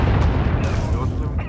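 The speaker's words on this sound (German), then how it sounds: "Hört sich an, als kämen die Bomben näher." Low, rumbling bomb blasts from a Star Wars: The Old Republic battle, a dense booming roar filling the whole clip with sharper bursts breaking through, no voice heard.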